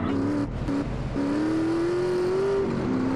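Car engine in the video game GTA San Andreas droning and climbing steadily in pitch as the car accelerates, dropping briefly between gear shifts, loud and continuous with no talk over it.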